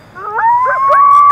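Coyotes howling in the dark outside a cemetery at midnight, a chorus of rising, wavering howls and yips joining in one after another, fairly loud and sustained against a quiet night background.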